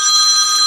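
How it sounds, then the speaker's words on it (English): Phone ringing, a loud, steady electronic ring with sustained bright tones filling the whole moment, close and alone. "So just wanted to excuse the phone ringing"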